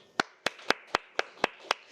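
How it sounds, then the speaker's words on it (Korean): Audience members clap in a crowded church hall at a worship music seminar, giving seven sharp, evenly spaced claps in a quick steady rhythm, close and fairly loud, with no voices. "박수 한번 주세요."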